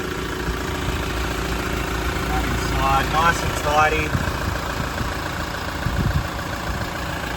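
Toyota Prado engine idling under an open hood on a showery day, a steady low rumble running throughout beneath someone talking close by.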